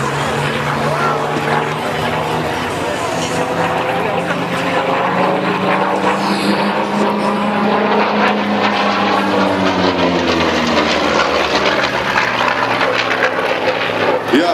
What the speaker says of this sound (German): das sind die 2100 PS aus einem Pratt & Whitney R 2800 Zebre-3 Motor